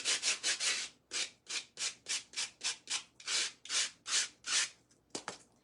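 A piece of floral foam rubbed against another piece of foam, giving a steady series of about a dozen soft, close scraping strokes in an even back-and-forth rhythm, with no talk.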